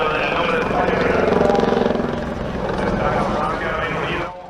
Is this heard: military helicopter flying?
yes